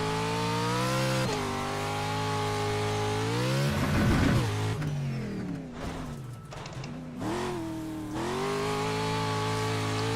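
Pro 4 truck engine in iRacing, a loud sustained mid-pitched drone that rises and falls with gear changes and throttle, dipping briefly as it lifts off before revving back up steadily.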